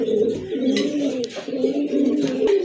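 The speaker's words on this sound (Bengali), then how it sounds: "দেখার মতো এক জোড়া কবুতর।" A pair of pigeons, kept among a breeder's collection for sale, coo in low repeated throaty rolls close by, with faint chirps in the background.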